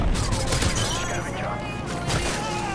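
Gunfire in a multiplayer first-person shooter match, dense crackling shots and bursts layered over game noise, close and loud throughout, with a voice talking over the fighting.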